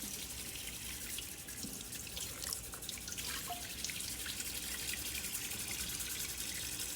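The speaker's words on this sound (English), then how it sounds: "right now I'm just washing all the russet potatoes so they're clean and not dirty" Tap water runs steadily into a sink as russet potatoes are rinsed clean, a continuous broadband splash with scattered drips and small knocks, close and alone with no talking.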